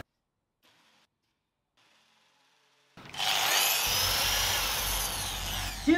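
After about three seconds of near silence with faint rustles, a power drill bores screw holes in wood for a pool noodle sofa frame, a loud steady whir grinding on through to the end.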